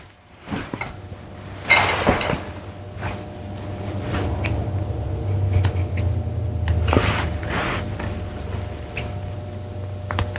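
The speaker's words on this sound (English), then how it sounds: "Then I'm going to come back with my scissors and just trim up the corners." Grooming scissors trimming the ear corners of a Yorkie, a series of short, sharp snips at irregular intervals, close by and quiet over a faint low hum, with no voices.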